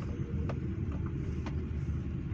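A car rolls slowly into a parking spot at a hospital, a steady low engine rumble close by with a few faint clicks and knocks and no talk.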